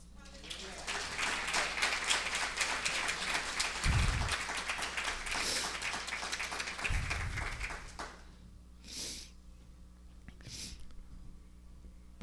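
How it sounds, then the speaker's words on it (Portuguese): A church congregation claps and applauds for about eight seconds, a dense close wash of hands with a few thumps, then scattered short claps trail off into quiet. "Você pode aplaudir o Senhor?"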